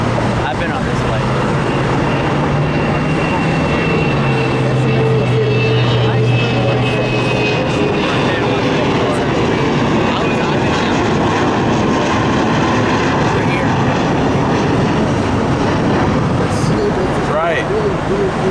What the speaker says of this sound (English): Delta 717 heading out to Panama City